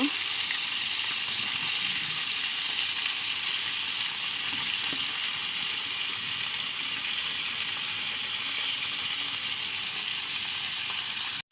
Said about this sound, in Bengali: তেল ঢেলে নিচ্ছি মাছগুলো দিয়ে দিলাম এখন সুন্দর করে ভেজে নিব